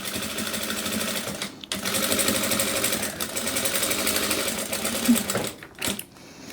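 A sewing machine in a dressmaking workshop stitches over a thick collar with a fast, even mechanical whir, pausing briefly a few times, close and steady.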